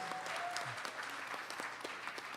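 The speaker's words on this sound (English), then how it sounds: "Please, a lovely round of applause for our professor." A lovely round of applause for a professor, quiet and somewhat distant steady clapping from an audience, with no talk over it.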